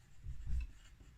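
Pencil drawing on paper during a physics lesson, a soft scratchy rubbing stroke rising to a brief louder pass midway and fading, close and quiet with no voices.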